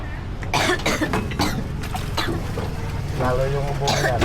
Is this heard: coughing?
yes